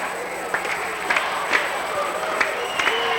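Kangaroos fans at Wing Stadium during an indoor soccer match, a sustained crowd roar with rhythmic bursts of clapping or stomping spaced through it, voices blending in a loosely unified chant.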